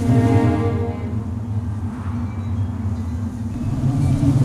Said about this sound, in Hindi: तूफान आ रहा है